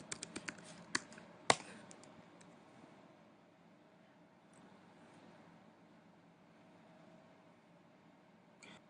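Typing on a computer keyboard: a quick burst of close, sharp key clicks at the start with one louder tap, then faint room hiss and a lone click near the end.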